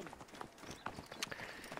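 Horse hooves clatter in a quick trotting rhythm in the Assassin's Creed Origins video game, faint and mixed with game ambience.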